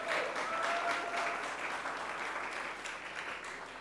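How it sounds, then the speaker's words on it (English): An audience at a youth sitting of the Tobago House of Assembly applauds steadily, a dense wash of clapping from a sizable audience, sustained throughout without voices. "Let us give them a round of applause in congratulating them."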